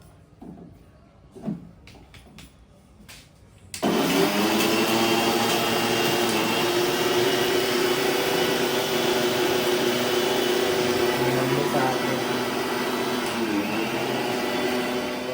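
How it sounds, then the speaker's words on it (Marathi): A kitchen mixer grinder grinding Malvani masala spices whirs loudly and steadily after a few seconds of quiet clicks and handling noises, holding a constant high-pitched motor whine to the end. "तर हा मिक्सर लावताय मिक्सरला"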